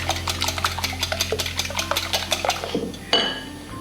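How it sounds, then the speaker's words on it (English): Eggs beaten hard in a bowl for a spinach and Swiss cheese quiche filling, a fast steady clatter of whisk strokes against the bowl, close and loud, ending with a couple of louder knocks. "now we're going to beat the living devil out of these eggs"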